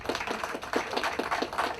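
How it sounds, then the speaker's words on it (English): Scattered hand claps at a St. Kitts-Nevis Defence Force passing out parade, a sparse, rhythmic patter of a few distinct claps at moderate distance with no talking over them. "I want to give them another round of applause"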